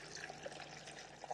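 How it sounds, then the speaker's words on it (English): Water poured into a blender jar holding one mango, two carrots and some ginger for juice, heard as a short, steady, splashing rush at close range with no talking. "and I'm going to add some water."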